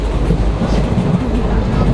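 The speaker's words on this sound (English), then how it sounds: "we get to enjoy a leisurely train ride through the desert" Loud steady rumble and rhythmic clickety-clack of a train in India, heard from aboard as it rolls along, continuous throughout with no talking.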